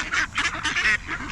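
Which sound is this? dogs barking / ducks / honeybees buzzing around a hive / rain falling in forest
ducks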